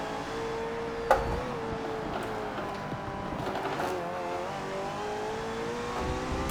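McLaren Senna racing at Monza in Forza Motorsport 7, a continuous high-revving engine drone with shifting pitch as it accelerates, one sharp click early on, and steady loud level throughout.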